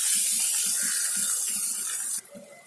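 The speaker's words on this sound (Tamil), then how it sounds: "கொஞ்சமா தண்ணி ஆட் பண்ணிக்கோங்க." Water poured from a tap into a pan of ginger garlic paste for Indian-style pasta, a steady broad hiss of running water that stops abruptly near the end, leaving quieter sizzling.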